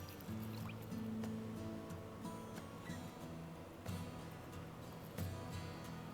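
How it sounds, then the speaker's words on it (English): Melted three-ingredient beard balm poured from a hot container into a final container, heard as faint, close liquid trickling and dripping with soft clinks, steady with a couple of small bumps. "I'm going to pour it now into my final container"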